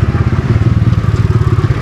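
A motorcycle engine idles close by at a carwash with a loud, steady pulsing putter that runs throughout, with no talk over it.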